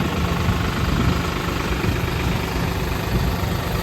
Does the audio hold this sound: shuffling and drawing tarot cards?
no